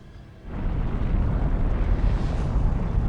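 A supernova core-collapse explosion sound effect: after a brief quiet moment, a deep, dense roaring rumble swells up abruptly and keeps booming loudly and steadily to the end.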